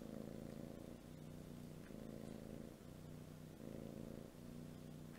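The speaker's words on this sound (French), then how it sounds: "J'ai un chat qui ronronne et qui me regarde avec des yeux d'amour." A cat's steady, low purr rumbles close by in rhythmic cycles, pulsing roughly every second with each breath, alone without any talking.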